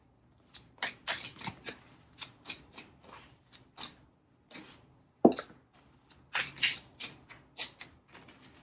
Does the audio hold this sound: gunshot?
no